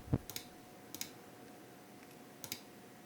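A few sharp, quiet clicks, spaced irregularly, against a faint steady hum, like a computer mouse being clicked.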